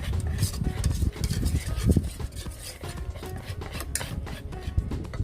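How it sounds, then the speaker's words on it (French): A utensil stirs pancake batter with yogurt and baking powder in a bowl, giving a continuous close scraping and knocking with quick rhythmic strokes and no talking. "Je vais mélanger."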